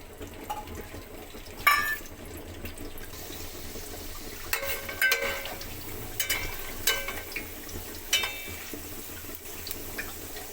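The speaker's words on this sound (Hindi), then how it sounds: "अब हम ऑयल में ये एक अदद लहसुन की जो गठी है इसको इस तरीके से काट के डालेंगे" A cut head of garlic sizzles in hot oil, a soft steady hiss with faint crackles and a few small pops, quiet and close.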